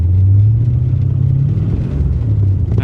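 1985 Chevy Corvette engine revving while driving, a loud, deep rumble that rises and falls in pitch as the car pulls, heard close and with no talk.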